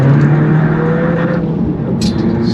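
A MINI Cooper SD with a B47 diesel engine pulls steadily in second gear on a bypass, giving a loud, continuous low engine drone with a faint whoosh near the end.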